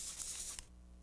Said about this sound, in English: I'll spray her hair lightly